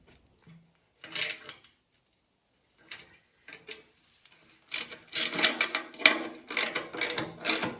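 A hand ratchet tightens skid bolts on a snowblower, with scattered short clicks early on, then denser, faster ratcheting bursts toward the end, close and fairly quiet.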